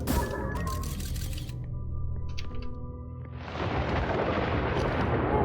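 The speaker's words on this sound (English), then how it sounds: "Red lightning." Deep rumbling thunder from red lightning in the Outer Wilds video game, rolling low for several seconds, then giving way to a loud, broad crackling roar near the end, with a faint musical tone in between.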